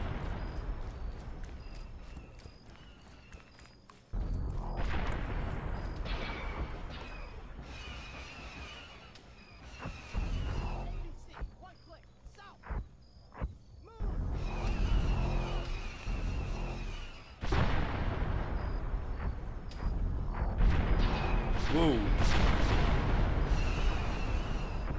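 Battlefield explosions and artillery fire in the military game ARMA 3, heavy booming blasts and rumbling impacts arriving in irregular bursts, some near and loud, others distant, over a constant low roar.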